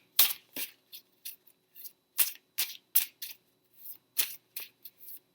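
Tarot cards are shuffled and pulled in short separate bursts of crisp riffling and slapping, close by and quiet, with pauses between handfuls and no talk.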